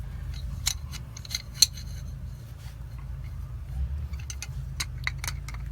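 A wrench gripping and turning a metal piece off the impeller of a Hayward Super Pump II pool pump gives a series of sharp metallic clicks and scrapes, close and fairly quiet over a low steady hum.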